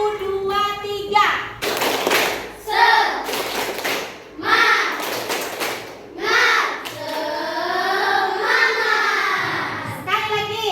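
A class of children performs a rhythmic clapping chant led by a teacher, sharp grouped claps and thumps alternating with sung or shouted voices in a patterned, repeating sequence.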